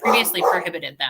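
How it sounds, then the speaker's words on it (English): A house dog barks and yips in short excited bursts, reacting to a delivery arriving at home, close to the microphone and mixed over a person speaking continuously. "apologies for my dog, I think we're getting a delivery"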